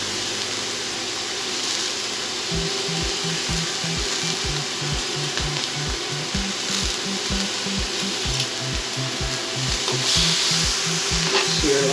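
Stuffed beef sears in a hot pan with a constant loud sizzle, while a steady rhythmic scraping or stirring beat repeats through most of the stretch, with no voices.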